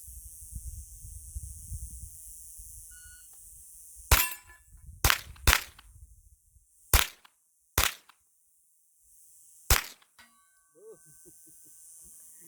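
Five sharp gunshots from a Smith & Wesson M&P FPC pistol-caliber carbine crack out at uneven intervals, each followed by a brief echo, after a stretch of low rumbling background.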